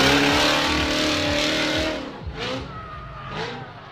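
A supercharged 6.0-liter engine with a Whipple blower in a small Nissan drift car revs loudly in the pit at a drift track, a sustained roar dropping into sharp blips and throttle stabs.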